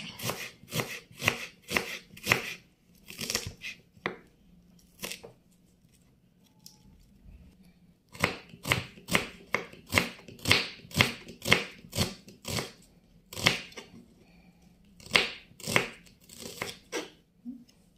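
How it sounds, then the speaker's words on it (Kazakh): An onion is sliced with a knife on a board, giving crisp rhythmic chopping strokes in quick bursts with brief pauses between runs, close and clear with no talking. "Пиязымызды осылай турап аламыз."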